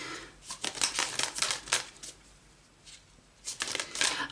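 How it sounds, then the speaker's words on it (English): Tarot cards are shuffled by hand close by, with quick papery riffles and flicks in two uneven bursts separated by a short pause. "Damn, these cards are annoying. They won't shuffle in a nice way."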